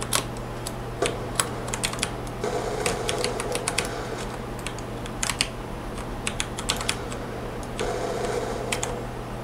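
Typing on a Tt eSPORTS Meka G1 mechanical keyboard with brown switches: a steady run of close, moderately loud key clicks in irregular bursts over a low constant hum, with no talk.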